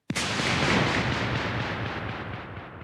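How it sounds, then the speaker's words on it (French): An explosion sound effect hits with a sudden sharp blast, then a loud, dense rumble rolls on and slowly fades over a few seconds, with no talking. "Une explosion se produit."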